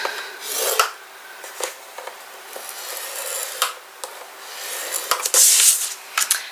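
Paper being scored for a small Halloween album gives off dry rasping strokes and light scrapes, several short bursts spaced apart, close by and with no talking.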